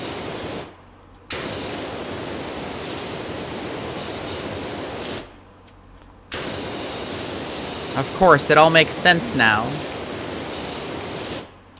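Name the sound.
power washer spraying in Powerwash Simulator video game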